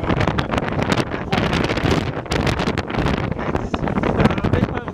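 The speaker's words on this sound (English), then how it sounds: "好大風啊！" Strong wind buffets the microphone aboard a boat out on Milford Sound, New Zealand, roaring loud and continuous with gusty surges throughout.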